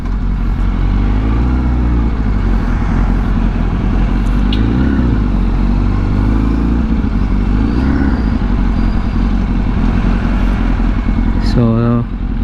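A Yamaha R1 sport motorcycle cruises along the Cavitex expressway, its engine droning loud and constant under heavy wind noise, with a faint pitch change near the end.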